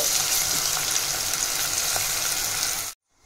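Crushed garlic and black pepper sizzle in a hot pan as rasam ingredients are stirred together, giving a close, bright, steady frying hiss that stops abruptly near the end, with no talk.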